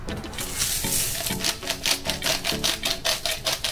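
Salt and pepper sprinkled into a bowl of fresh vegetable soup with wheat bread, producing a quick series of soft, close rhythmic taps and crackly shakes.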